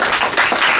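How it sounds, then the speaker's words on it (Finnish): An audience applauding to welcome guests at a rock lyric workshop evening, a loud, dense burst of clapping heard alone. "Juha Lehti, saa taputtaa."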